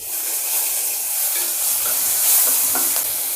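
Curry leaves and asafoetida sizzling in hot oil as a tempering for curd rice, a loud, steady, close-up frying hiss with faint crackles and stirring throughout.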